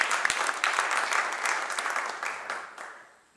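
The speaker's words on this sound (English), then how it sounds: "Let's give her a big round of applause." A gala auction audience breaks into a big round of applause, bright dense clapping from a room full of guests that carries evenly and then fades out near the end.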